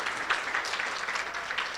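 Steady, moderately loud clapping from an audience welcoming a speaker at a university alumni lecture, a continuous crowd of hands with no voices over it.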